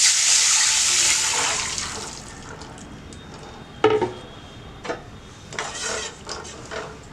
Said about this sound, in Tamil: இப்போ நம்ம கரைச்சி வச்சிருக்கிற தக்காளி புளி தண்ணி நம்ம ஊற்றிக்கலாம்.